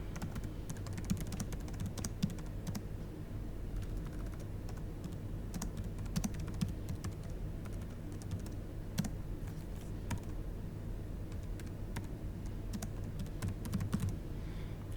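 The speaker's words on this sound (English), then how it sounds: "Once you have finished typing, press enter on your keyboard to confirm what you have added in." A computer keyboard is typed on steadily as text is entered into a free text order field in Meditech software, quick uneven key clicks close to the microphone with no talking.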